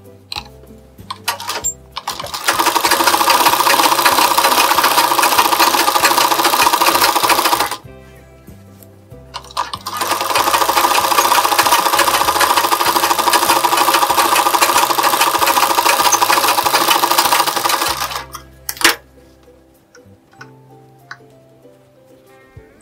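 Sewing machine stitching a lined blouse, running in two long loud bursts of steady mechanical whirring separated by a short pause, with brief clicks and handling noise at the start and end; no talking.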